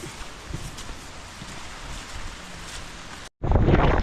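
Wind gusting across an open outdoor spot, a steady broadband rush buffeting the microphone for about three seconds, then a brief dropout before a louder, closer burst of wind noise.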